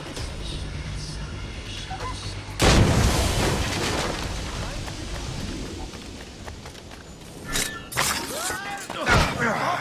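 A gunshot booms in Assassin's Creed Rogue, a sudden loud blast with a crashing, shattering tail, followed by further game noise and a voice speaking over it.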